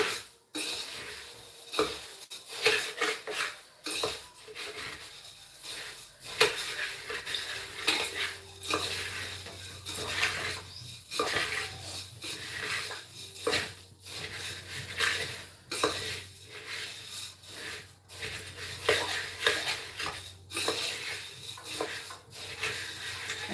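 Chivda ingredients dry-roasted in a pan, stirred continuously with a metal spoon, giving repeated scraping and clinking strokes over a faint low hum for a long stretch, with no voices.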